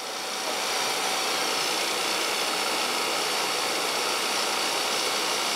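Vacuum pump of an O2 plasma cleaner pumping down after treatment, a steady broadband roar and hiss that holds constant throughout, loud and close with no voices.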